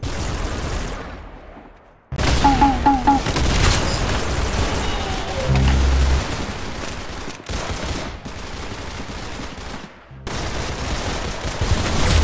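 Gunfire from the Roblox shooting game Arsenal: loud, dense bursts of rapid shots and booms, broken by a few short pauses, with no voices heard.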